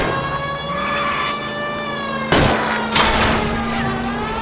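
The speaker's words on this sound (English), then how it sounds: "I'll try to shoot out his tires." Gunfire aimed at a fleeing car's tires in L.A. Noire: two loud, sharp broadband bursts about half a second apart, cutting over a steady engine drone and a high whining tone.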